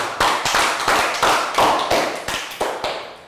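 A small class of Year 3 pupils gives a short round of applause, a dozen or so distinct, evenly spaced claps at close range, each ringing briefly in the room. No talking.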